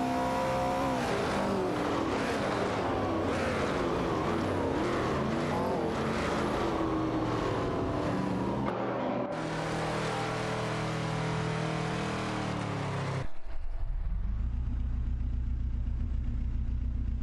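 Video-game racing cars, including a Porsche 908 coupe and a Ford GT40, roar continuously as engines rev and shift through gears, with a sudden cut partway through to a lower, steady engine drone.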